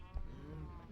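A Minecraft cow gives one short, low moo, faint and distant.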